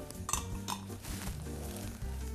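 Pieces of high-cocoa dark chocolate drop into a metal sauce pot, giving a few light clinks and scrapes of utensil on metal, close up and fairly quiet.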